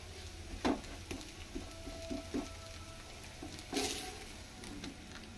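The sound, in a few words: carrot dosa cooking in oil on a pan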